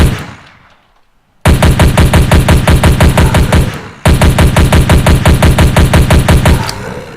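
Rapid automatic gunfire from a C++ first-person shooter game rattles loud and close in two long, evenly spaced bursts, separated by a short pause.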